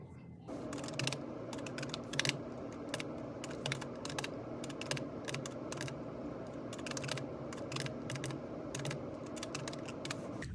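Typing on a computer keyboard while entering quiz grades into a school gradebook, a steady run of close, crisp key clicks over a constant low room hum, with no talking.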